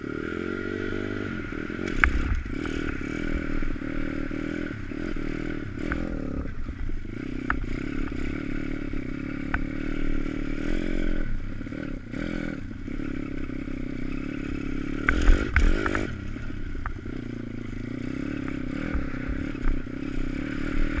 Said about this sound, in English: Then you can give me a push and I'll pop it into gear.